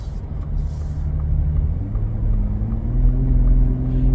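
A Ford Raptor pickup truck drives over bumps, giving a steady low rumble of engine and road noise. The pitch rises slightly partway through as it picks up speed, with no voices.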